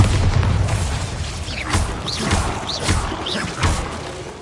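Bombarda spell explosions in Hogwarts Legacy: several loud booming thuds and crashes at irregular intervals, close and heavy, over a steady game ambience.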